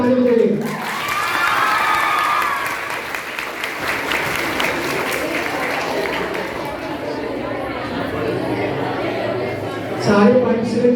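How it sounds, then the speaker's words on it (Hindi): An audience at a school sports day event gives sustained loud applause for about ten seconds, with crowd chatter and some cheering mixed in. A voice speaks briefly at the start and the end. "चलिए ताली बजाइए।"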